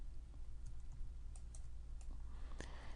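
Computer mouse clicking and dragging with a clone tool in photo editing software, giving a few faint, sparse clicks over a low steady hum, close by and quiet, with no voices.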